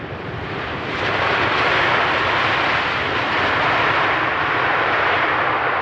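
An airplane landing at Amsterdam Schiphol Airport, its engine roar swelling to a loud, steady broadband rush that holds for several seconds with no talk over it.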